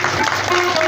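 Brief burst of audience clapping during a Bhagavat Katha religious discourse gathering, a short dense patter of hands from the crowd with no voices over it.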